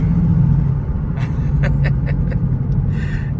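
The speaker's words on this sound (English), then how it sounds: "there's quite a lot of wheel spin. Because it's front wheel drive." An Audi A3 converted to S3 spec accelerating hard with its front wheels spinning, heard from inside the car as a loud, low engine rumble with a few sharp bursts and brief squeals near the end.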